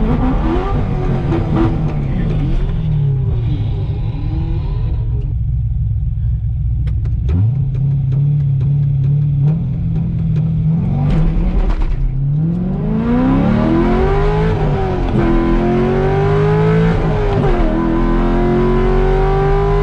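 A 500-horsepower car making a drag racing pass, engine roaring loudly and continuously through rising gears with shift breaks and repeated climbing revs, heard close with no talking.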